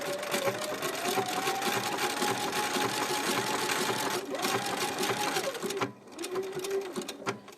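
A sewing machine stitching an applique gives a steady, close mechanical whir with a rapid needle rhythm, briefly stopping and restarting near the end.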